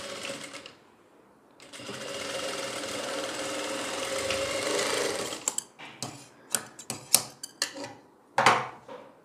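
A sewing machine runs a seam on a designer kurti in one steady whirring stretch. A string of sharp clicks and clatters follows as the fabric is handled and the machine is adjusted, and there is no speech.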